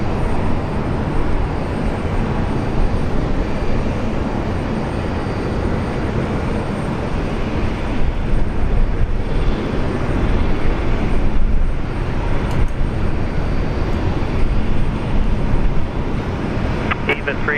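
A Qantas BAe 146 airliner roaring down the runway on its takeoff roll at Brisbane Airport, a loud, unbroken engine drone that swells slightly partway through.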